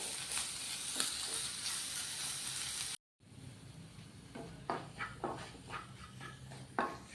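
Evenly chopped ginger pieces frying in a pan for puli inji, a quiet, continuous sizzle with a brief dropout partway, then bursts of crackle and stirring.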